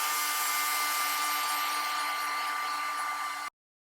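A heat tool blows hard and steady on embossing powder to melt it, a loud continuous whirring hiss with a faint whine, running alone for about three and a half seconds before it cuts off abruptly.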